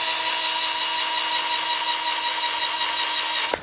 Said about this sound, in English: When we're drilling two holes in either side,